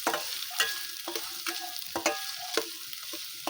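Onions fry in a large kadhai, giving a soft, continuous sizzle broken by repeated scraping strokes of a spatula, close by and with no voices.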